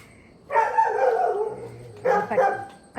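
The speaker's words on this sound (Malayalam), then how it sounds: "പട്ടിയൊക്കെ ഉണ്ട് കണ്ടോ." A dog at a family house in Kerala gives two sharp, close bursts of barking, the first longer and the second shorter, with quiet background between them.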